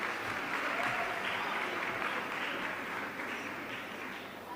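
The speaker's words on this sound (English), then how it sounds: "A round of applause for him." Steady applause fills a youth summit hall for a finalist, a dense, even wash of clapping that holds for several seconds before easing slightly toward the end.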